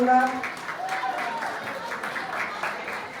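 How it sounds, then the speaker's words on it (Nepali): An audience claps steadily at a formal community gathering in New York, a dense even applause with a voice speaking briefly at the start. "कृपया जोरदार ताली बजाएर सहयोग गरिदिनु होला।"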